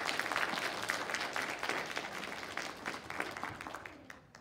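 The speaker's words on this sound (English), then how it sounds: "how about another round of applause for all the contestants?" Applause for spelling bee contestants at an intermediate school spelling bee, a crowd clapping steadily and fairly close, fading gradually toward the end.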